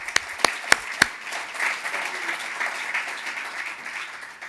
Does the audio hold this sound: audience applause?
yes